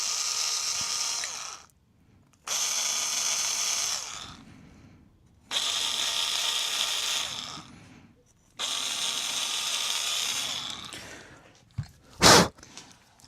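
A small rotary deburring tool whines in four bursts of about two seconds each, working drilled holes in an amplifier chassis, with short pauses between bursts and a brief clunk near the end.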